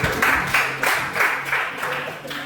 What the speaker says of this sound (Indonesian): Oke, bagus, tepuk tangan dulu.